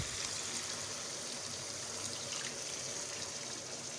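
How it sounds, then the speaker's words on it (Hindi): Water is poured into a pot of beef frying for biryani, making a steady, close rushing and splashing that holds for a few seconds without talk. "अब हम इसमें ऐड करेंगे पानी।"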